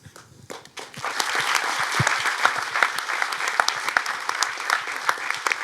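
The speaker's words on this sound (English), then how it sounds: "I know you already applauded for yourselves being a great audience" Audience applause after a film Q&A, a lively burst of many hands clapping that starts suddenly and carries on steadily at close range.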